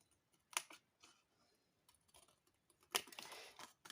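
Scissors cutting paper for a Christmas tree decoration: two short, sharp snips about two seconds apart, close and crisp, with light rustling between them in a quiet room.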